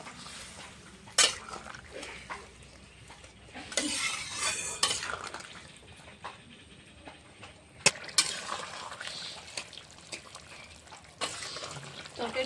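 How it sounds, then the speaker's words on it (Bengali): Pot of fish curry with potato, pointed gourd, onion and garlic being stirred, with scraping spoon clinks against the pot and soft bubbling sizzle, intermittent sharp knocks over a quiet background. "মাছটা দিয়ে ভালো করে ফুটে নেবো এখন।"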